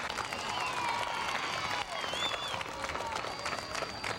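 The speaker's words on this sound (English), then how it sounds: "So all stand up and give him a big round of applause." A crowd at an outdoor 1989 closing ceremony in Piedmont Park applauds in a sustained burst of clapping, with some cheering and voices mixed in, and the sound holds fairly even for several seconds.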